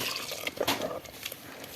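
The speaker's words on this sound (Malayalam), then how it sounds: "അല്പം കൂടെ വെള്ളം ഒഴിച്ചു കൊടുക്കാം" Water is poured into a ripe mango curry in the Kerala style, making a brief splash and trickle of liquid with a few soft clinks, heard close and alone.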